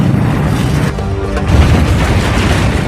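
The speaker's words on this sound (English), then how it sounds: "When it blew, the eruption blasted the mountain apart." A volcanic eruption at Santorini booms as a loud, sustained low-frequency explosion with rumbling, dense blast noise throughout.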